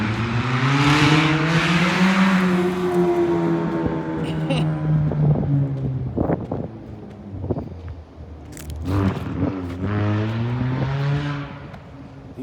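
Car engine revving loudly and close: rising and falling whine that climbs, drops, then swells again, with a few sharp clicks and crackles between the revs.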